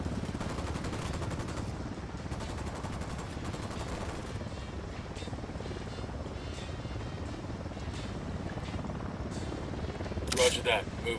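Helicopter in the Ghost Recon Wildlands video game, a steady loud rotor drone running throughout alongside bursts of gunfire and game effects.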